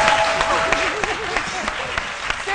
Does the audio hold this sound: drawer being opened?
no